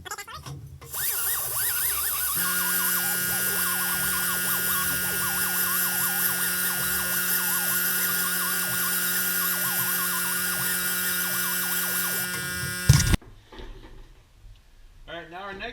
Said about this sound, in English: after we did the die grinder with the RICHPIN'S wheel